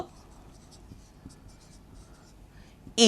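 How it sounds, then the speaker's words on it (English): Chalk or pen scratching out the word duster on a board during an English grammar lesson, faint and continuous, ending in a brief loud burst. "so we will write duster here"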